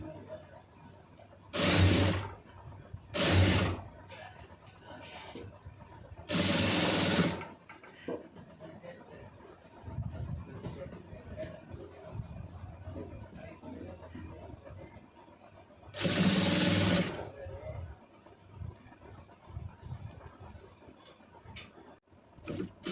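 A tailoring sewing machine stitches thread piping onto fabric in several short, loud, whirring bursts, with quiet handling noises between the runs.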